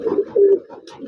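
Rampuri and Saharanpuri pigeons coo close by in soft, throaty, rolling calls, one long warbling coo in the middle, with faint chirps near the end.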